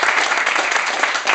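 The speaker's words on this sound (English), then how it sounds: "group 4, I think you deserve a round of applause" A short, dense burst of clapping from a group at a Python coding meetup. It is continuous and fairly close, with no talk over it.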